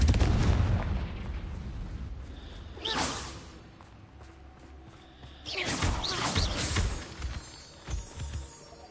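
Confringo fire-blast spell cast during combat in the video game Hogwarts Legacy on PS5, two loud whooshing blasts with booming impacts, the second longer and rumbling, over a low game soundscape with no speech.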